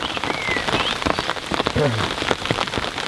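Steady rain falling at a lake in France, a dense, loud patter of drops close by with a constant hiss, and a few faint birdlike chirps breaking through now and then.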